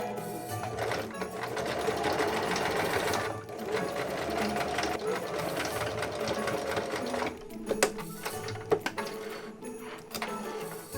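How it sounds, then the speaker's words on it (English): A sewing machine stitches the sleeve of a homemade compression shirt with a close, continuous mechanical whir. Near the end the whir breaks into a few brief stop-start bursts. "Time to sew the first sleeve. The first stitch is always the scariest."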